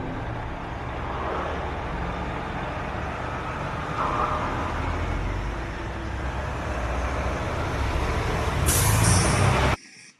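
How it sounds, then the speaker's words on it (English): Traffic background sound effect added in Canva: a steady roadway roar of passing cars and trucks with a brief air-brake hiss near the end, then it cuts off abruptly. "added a background noise effect of traffic running it"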